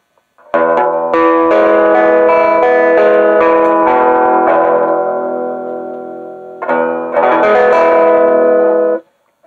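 Electric guitar chords played through effects on a Robo 27, several strummed chords ringing out with an open, processed, shimmering tone, a brief pause, then a few more chords close up.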